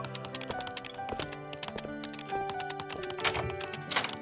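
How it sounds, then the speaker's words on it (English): Computer keyboard typing in a video game scene, a quick run of light clicks and clacks at a quiet level, continuous over a soft musical background. "His slender fingers swiftly dance across the keyboard, producing a constant click-clack sound."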